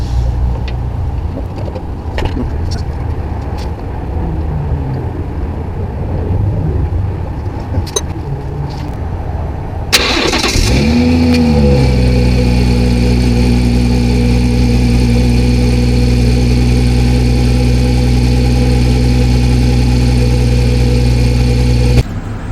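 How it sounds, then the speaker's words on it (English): After quiet background rustling, a BMW engine cranks and catches, then settles into a steady, loud idle close by during a ZF 8HP transmission fluid service. "we got the car running here"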